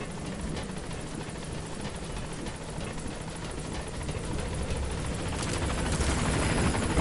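Helicopter from the video game Metal Gear Solid V arriving at a landing zone, its steady rotor roar filling the scene and swelling louder toward the end as it draws near.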